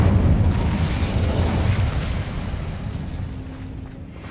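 Incendio fire spell cast in Hogwarts Legacy: a loud, roaring burst of flame with heavy low rumble that gradually fades over a few seconds, ending in a faint lingering crackle.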